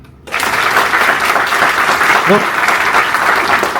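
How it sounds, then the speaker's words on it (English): A classroom audience at a National Education Day event in Mumbai breaks into sustained, dense clapping that starts abruptly and holds at steady loudness to the end, with a brief spoken word heard within it. "Once more. Clap."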